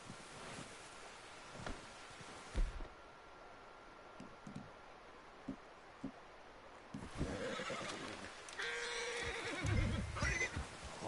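A horse neighs and whinnies loudly in Red Dead Redemption, with hoofbeats clopping and soft wind in the background, and game sound effects at the end.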